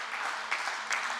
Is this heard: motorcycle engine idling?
no